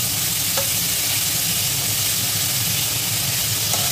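Chopped capsicum stir-fried in a pan for white sauce macaroni pasta, giving a loud continuous sizzle and hiss close by, with faint stirring scrapes underneath.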